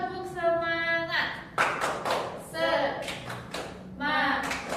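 Classroom doing a tepuk semangat clapping chant, with rhythmic group claps mixed among chanted voices in short bursts, indoors and moderately close.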